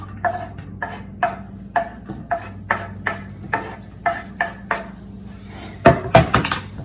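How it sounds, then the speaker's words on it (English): Vegetables for a quiche dropped and pushed around in a pan, giving a steady series of short, close knocks and thuds at a regular rhythm, then a louder cluster of clattering hits at the end, with no talking. "So I'm going to go ahead and add these to the pan."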